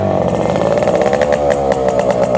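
A Yamaha RX100 two-stroke motorcycle engine, fully restored, starts and runs at a steady, close, loud idle with a rapid, even putter throughout.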